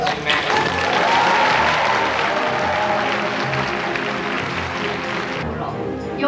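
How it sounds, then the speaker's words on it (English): Women applaud a court's verdict finding Emperor Hirohito guilty over comfort women charges: sustained, loud clapping from a crowd lasting several seconds, steady and dense, with voices mixed in. "The ladies of North Korea applauded the court for finding Emperor Hirohito guilty of the charges on comfort women"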